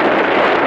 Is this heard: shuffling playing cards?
no